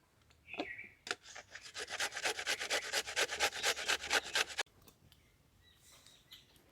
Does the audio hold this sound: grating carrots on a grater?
yes